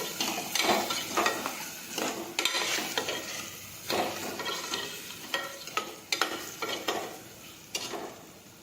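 Repeated scraping and clattering of a utensil stirring ridge gourd and potato curry in a pan, in uneven strokes over a low sizzle, with no voices.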